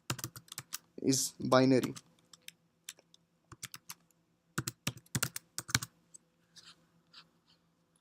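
Typing on a computer keyboard: irregular clusters of crisp key clicks, close and fairly quiet, following a brief spoken phrase at the start.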